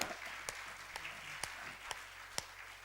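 A church congregation at a Sunday service claps hands in a thin, continuous patter, with a few sharper individual claps standing out at roughly half-second intervals, fairly quiet and without voices.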